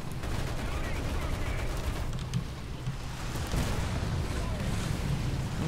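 Tank gunfire and battle noise from the War Thunder video game form a dense, continuous roar of blasts and rumble. Bursts of shots run throughout, and a voice talks over the din.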